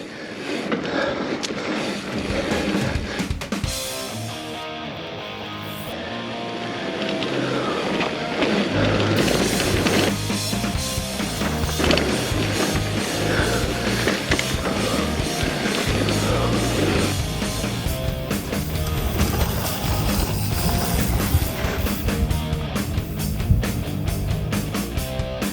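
A 2023 Marin Alpine Trail 7 mountain bike descends a downhill trail, giving a loud continuous rush of tire roll, chatter and wind noise that swells and stays dense to the end.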